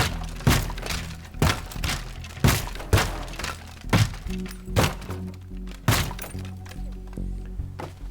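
A floor breaking apart and collapsing in the destruction game Teardown: a rapid series of heavy, loud thunks and cracking impacts roughly every half second, with debris clatter between them.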